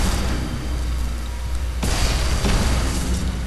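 Explosions in the wizard video game Magicka, loud booming bursts with two sharp blasts standing out over a constant roaring rumble.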